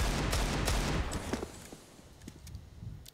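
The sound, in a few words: gunfire through a wall in Counter-Strike video game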